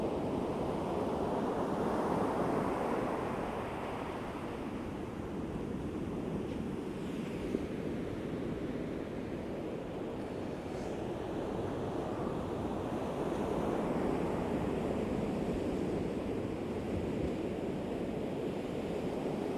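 Waves surge and break steadily on the beach at Hornsea North End on the English east coast, with a continuous roar of surf and a gusting wind buffeting the microphone.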